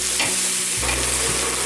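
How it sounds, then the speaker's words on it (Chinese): Shredded carrot and diced shiitake mushroom stir-fried in a wok for a vegan dish, a loud close sizzle with scraping stirs of a spatula through the short stretch. "香菇角炒至焦香后，放入红萝卜丝， 翻炒至红萝卜变色"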